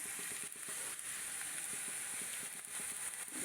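Vegetables including potato, with bitter gourd leaves, sizzle in hot oil in a pan: a continuous close crackle with small stirring taps and bursts throughout, no voices.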